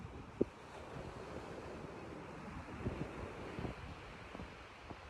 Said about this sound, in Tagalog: pagdating namin dito sa may beach ng Dipakulaw